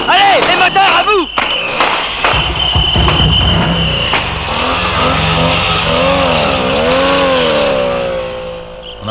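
Car engines roar in a radio drama police chase at a roadblock, loud and revving with swooping pitch, while sirens wail and voices shout over the racket.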